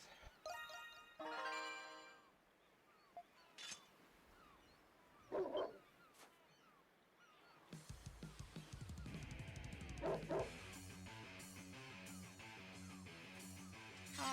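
Wild dogs or wolves bark and whimper in Ys VIII: Lacrimosa of Dana, scattered animal calls over quiet game ambience, then a busier stretch of music and combat sounds.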